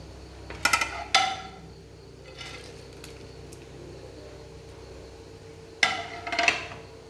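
Salt, chopped kanthari chillies and green chillies being stirred together for a beetroot pickle, with a few sharp clinks of utensil against a bowl near the start and end and quiet rustling between.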